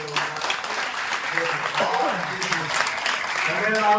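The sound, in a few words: audience applause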